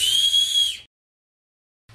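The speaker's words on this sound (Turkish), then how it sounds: "Aşırı fazla ses çıkarttığını iddia eden düdüğümüz burada." A 3D-printed whistle blown hard, one loud piercing high shrill tone held steady for under a second before cutting off, then silence with a faint low hum returning at the end.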